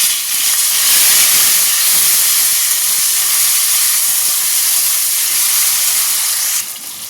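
Tomatoes hitting hot oil seasoned with asafoetida and curry leaves, a loud steady sizzling hiss that fills the whole stretch and eases slightly near the end.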